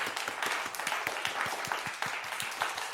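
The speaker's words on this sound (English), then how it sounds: "let's give a round of applause for Nero, Titan Motorsports" A small audience applauds during a motorsport interview, with steady, fairly even clapping for about three seconds.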